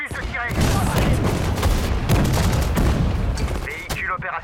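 Dense infantry gunfire erupts after a fire order in the World War II strategy game Sudden Strike 4, a loud, continuous fusillade of overlapping rifle and machine-gun shots with booming blasts throughout.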